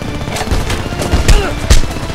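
Gunfire in the Homefront video game crackling in rapid bursts, with several heavier close shots punching through a continuous rattle of weapons fire and a faint voice in the mix.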